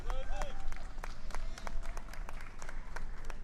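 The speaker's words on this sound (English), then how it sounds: "let's clap for our young people." Scattered clapping from a crowd at an outdoor Texas voting-rights rally, with uneven individual claps over a low rumble and some voices mixed in.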